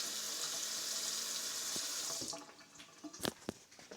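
Water pours steadily from a tap into a sink for about two seconds, then stops, leaving a few splashes and drips and small clinks.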